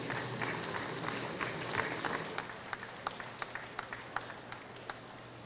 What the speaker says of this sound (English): Let's applaud this family.